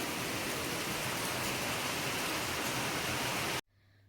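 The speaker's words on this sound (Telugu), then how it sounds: "చూసారు కదా, వర్షం కురుస్తూ ఉంది అలా." Steady rain falls outdoors as an even, dense hiss of drops that keeps going at the same level for several seconds, then cuts off abruptly into near silence.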